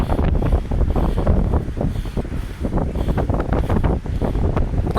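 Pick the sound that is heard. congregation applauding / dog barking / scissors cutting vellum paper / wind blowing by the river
wind blowing by the river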